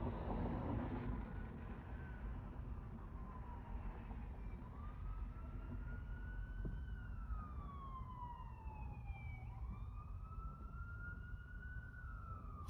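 A wailing siren rises and falls in the distance, sweeping through several cycles over steady traffic rumble.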